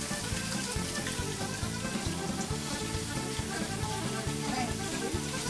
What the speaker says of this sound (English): So then you wash your hands in hot water.